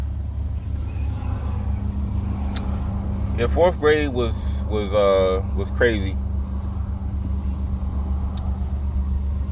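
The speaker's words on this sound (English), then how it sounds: "I'm just waiting in traffic, just talking." Road traffic from inside a car waiting in a jam, a continuous low engine hum throughout with a person talking briefly over it in the middle.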